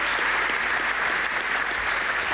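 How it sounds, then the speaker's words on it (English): Steady, dense applause from a large audience fills a 1995 University of Manchester graduation ceremony hall, continuous and even throughout with no clear individual cheers. "It's a good cheer."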